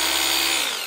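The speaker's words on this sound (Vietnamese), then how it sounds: "Khoan bê tông này, khoan búa và đục cho em này." A Hukan concrete hammer drill with a chisel function runs at full speed, giving a loud, steady high-pitched whine that dips slightly as it winds down at the end.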